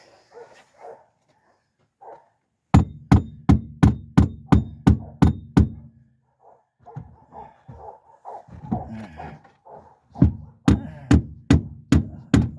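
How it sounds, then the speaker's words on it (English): Claw hammer striking a car seat into place during a 1999 Pontiac Grand Prix seat install: two loud bursts of rapid, evenly spaced metallic blows, about eight each, separated by shuffling and handling noise. "maybe I'll do this little hammer here. So the little claw hammer might come in handy"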